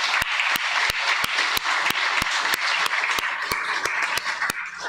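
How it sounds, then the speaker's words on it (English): A crowd at an award ceremony applauds steadily, with a few sharp, evenly spaced claps standing out over the continuous patter of many hands. "Give Stephen a round of applause"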